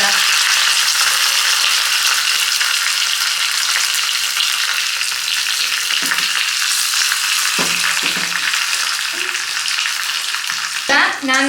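Dry red chili, curry leaves and asafoetida crackle in hot oil as a tempering for buttermilk sambar, a loud, steady close-up sizzle throughout with a few light metallic clinks near the end.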